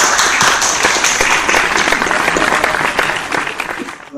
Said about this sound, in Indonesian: Kita berikan tepuk tangan untuk Bapak Huda